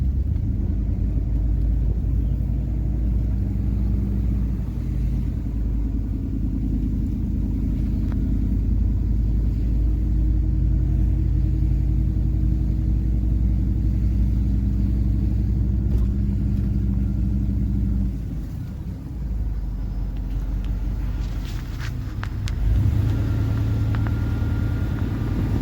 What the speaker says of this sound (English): Let's drive back up.